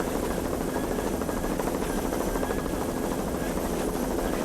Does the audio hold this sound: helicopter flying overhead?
yes